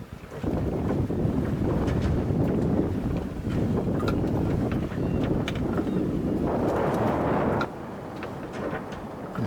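A sailing yacht cuts through the sea off the Welsh coast between Ramsey Sound and Skomer Island, with loud steady wind buffeting the microphone and rushing water along the hull, easing slightly near the end.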